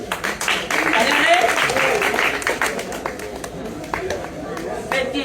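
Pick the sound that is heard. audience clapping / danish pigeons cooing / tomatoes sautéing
audience clapping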